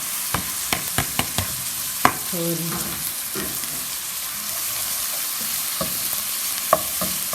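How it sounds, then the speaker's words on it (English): Onions and garlic sauté in a pan for a family meal, giving a steady sizzle with sharp scrapes and taps of a spoon stirring at intervals, close by with no talking. "So I'm just waiting for the onions to saute a bit and soften."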